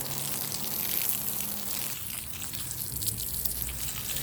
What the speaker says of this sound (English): Let's go ahead and soak this real good.